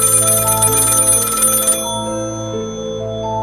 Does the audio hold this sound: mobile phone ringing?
yes